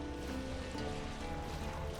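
A boat crossing a foggy lake in The Witcher 3 video game, with a steady wash of water and hull noise running unbroken and fairly faint throughout, no voices.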